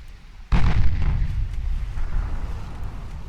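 A heavy cruiser's naval guns firing in Ultimate Admiral Dreadnoughts, a single sudden deep boom that rolls on into a long rumbling tail.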